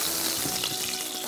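Butter sizzles loudly in a hot pan, a dense, steady crackle of frying close up with no talking.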